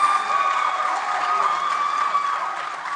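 A studio audience at a junior school quiz contest claps for the contestants, steady moderate applause with a faint tonal hum underneath.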